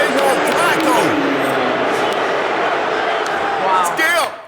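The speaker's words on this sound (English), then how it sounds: "So hear the crowd? Let it go. They want Flacco." A played recording of a stadium crowd chanting for Flacco, a loud sustained roar of many voices with rising cheers near the end.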